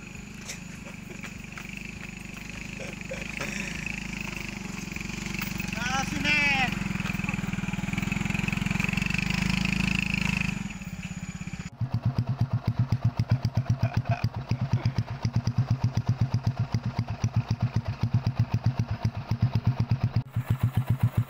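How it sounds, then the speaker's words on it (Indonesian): A motorcycle engine runs throughout: first a muffled drone beneath people talking, then a close, loud, evenly pulsing thump as the bike runs steadily on its own. "Naik motor ki."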